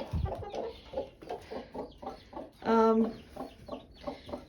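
A hen clucks in a rapid run of short, close clucks near newly arrived chicks, with one longer, louder tonal squawk in the middle.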